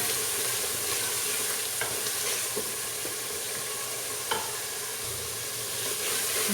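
Masala spice paste frying in a pan while making goat trotters: a steady, even sizzle with soft stirring scrapes and a few light ticks, close and continuous, with no voices.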